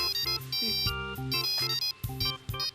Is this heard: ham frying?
no